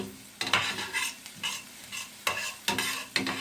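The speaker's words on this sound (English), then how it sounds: "You see these are sauteing?" Vegetables sauté in a hot pan for tuna cakes, a steady sizzle broken by several sharp stirring scrapes at irregular intervals, close and fairly loud with no voices.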